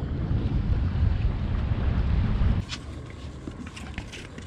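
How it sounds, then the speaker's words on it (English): Strong wind, about 24 mph with gusts of 30, roars into the microphone at Fort Pierce Inlet in Florida with whitecapped waves. A loud steady rumble fills the first half, then drops to a lighter gusty hiss. "I think the wind's 24 miles an hour with gusts of 30."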